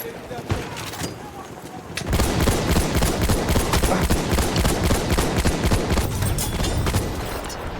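Dense, rapid gunfire and bullet impacts from Battlefield 1 on the Suez front erupt after a brief lull and keep rattling nonstop, loud and close, in a continuous hail of shots.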